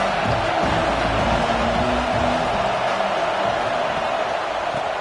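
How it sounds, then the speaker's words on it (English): Roaring stadium crowd in a college football video game, a dense, constant wall of noise rising against the offense, loud and unbroken for several seconds. "This crowd trying to make life miserable for this offense."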